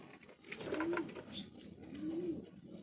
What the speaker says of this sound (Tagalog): Yan ang pinaka may edad na ibon ko ngayon dito.